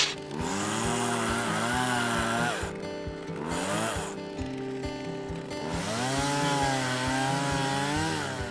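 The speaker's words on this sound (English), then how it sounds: "It all begins with a deep, thick layer of ice, a truckload of equipment, and persistent chainsaw skills" A chainsaw cuts a hole through deep, thick lake ice during winter ice fishing in Iowa, its engine loud and close, revving up and down through sustained cutting passes with brief dips between them.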